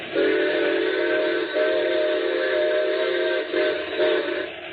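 A loud, sustained train whistle blows in long steady blasts before a road crossing, breaking briefly and resuming a few times.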